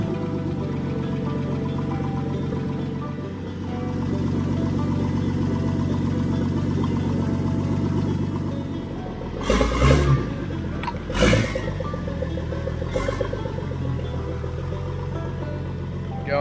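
A Nissan TB42 engine idles steadily at around 950 rpm during idle speed adjustment, a low, even drone with a couple of brief louder knocks near the middle, no voices.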